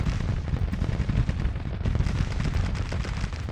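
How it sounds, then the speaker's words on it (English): Artillery in a Civil War battle in Grand Tactician: the Civil War rumbles continuously as a dense, muffled roar of distant firing blended with battlefield din, with no speech over it. "I do have artillery here firing, so that helps."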